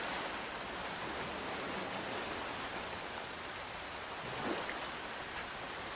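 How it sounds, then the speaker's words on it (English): Steady rain falling in the survival game Under a New Sun, a continuous even hiss of drops on surfaces with no voices over it. "Because it's raining."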